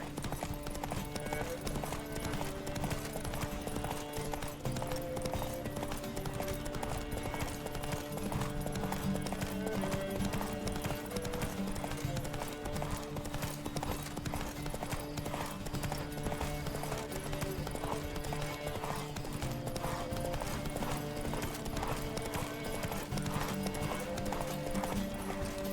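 Horses gallop in The Witcher 3: Wild Hunt as a race begins, with rapid, continuous clip-clop hoofbeats over a steady tonal game soundtrack, close and unbroken throughout.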